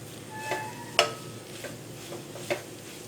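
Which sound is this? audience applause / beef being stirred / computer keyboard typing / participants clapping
beef being stirred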